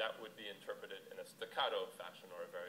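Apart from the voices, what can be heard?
None of the usual background noises is heard.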